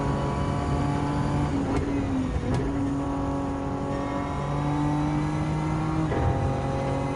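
A minivan races in Gran Turismo 7 during a Japanese 4WD challenge. Its engine hums steadily with repeated gear shifts, the pitch dropping and rising again, with a couple of sharp clicks and no talk.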